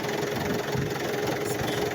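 A Mitsubishi Adventure engine idles roughly with a shaking fault, giving a steady, close, low mechanical rumble that holds unbroken throughout.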